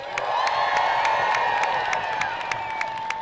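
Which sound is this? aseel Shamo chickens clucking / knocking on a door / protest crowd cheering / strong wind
protest crowd cheering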